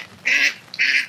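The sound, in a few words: ducks honking and quacking in a rainy village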